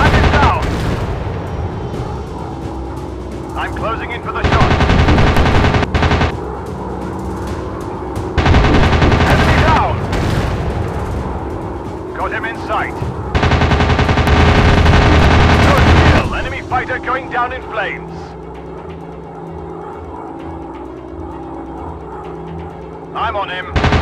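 Fighter plane machine guns in the RAF High Command game fire in three long rattling bursts over a steady engine drone, loud and close, with short pauses between volleys.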